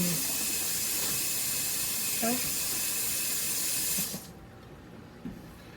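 Water runs steadily from a kitchen tap while a dish is washed, a continuous close hiss with faint clinks, cutting off abruptly near the end and leaving a quiet room.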